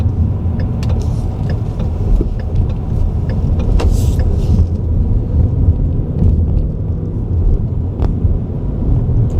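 A 2015 Ford Mustang GT drives and turns, its engine a loud steady rumble with road noise filling the whole stretch, no talking.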